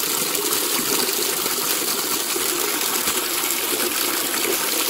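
Water gushes out steadily and fairly loud at a rural village home, a continuous rushing pour with no breaks and no voices.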